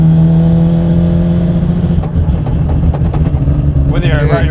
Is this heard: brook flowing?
no